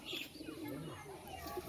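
Pet pigeons perched on bricks give soft, low cooing, faint and somewhat muffled, with background murmur and someone talking nearby.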